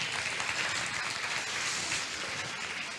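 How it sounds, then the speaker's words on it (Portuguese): A church congregation applauding, a steady dense wash of clapping from many hands, sustained evenly for several seconds with no voices over it. "Aplauda o Senhor pela vida dele."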